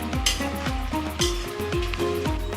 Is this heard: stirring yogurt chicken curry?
yes